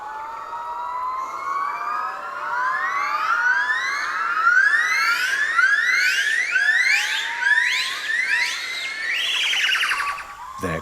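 Yellow-cheeked gibbons call from a forest canopy in Indochina, a loud rising chorus of whooping, siren-like notes that climb and quicken in repeated swooping phrases, ending with a harsher burst.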